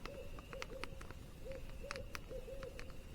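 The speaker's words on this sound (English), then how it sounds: "There's an owl over there that's been hooting for the past few minutes." An owl hoots repeatedly at a campsite by a bay at night, fairly close by, each hoot a short wavering call with brief clicks and rustles around them, with no one talking.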